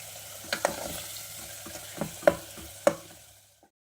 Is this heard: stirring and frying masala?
yes